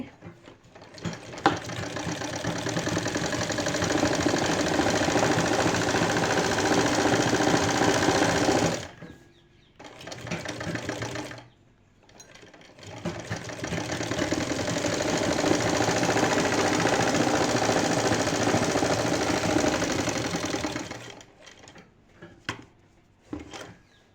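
A sewing machine stitches a straight seam on a poncho design, running in long continuous whirring stretches with a rapid mechanical rattle, stopping twice for short pauses before starting again, loud and close.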